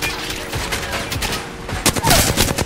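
Rapid gunfire in the Apex Legends battle royale game, dense bursts of automatic shots and sharp cracks clustered throughout, loud and close, with faint voice sounds mixed in.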